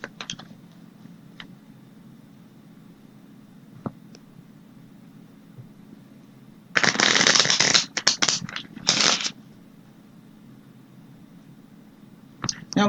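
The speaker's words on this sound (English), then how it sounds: "I'm going to pull 3 playing cards" Playing cards shuffled close by in a quiet room: a couple of short, crisp riffling bursts lasting about two seconds, surrounded by faint low hum and occasional small taps.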